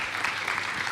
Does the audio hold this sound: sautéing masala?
no